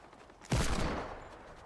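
A video game weapon fires into a nest in one short burst. The attack is sharp and the broad rumble fades over about a second. The sound is moderately loud and alone.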